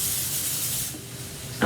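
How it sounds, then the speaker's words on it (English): Cooking oil sprayed from a can as a fine mist over layered sweet potato slices in a baking dish, one steady close hiss of about a second and a half that stops abruptly. "I'm gonna spray that a little bit too."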